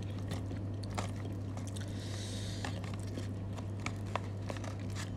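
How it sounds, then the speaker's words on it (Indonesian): Spicy snack being chewed close to the mic, a run of crisp bites and crunches over a steady low hum, with no talk. "Aku gak bisa berhenti ngunyah."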